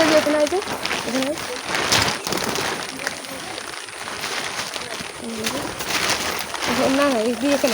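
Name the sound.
pigeons cooing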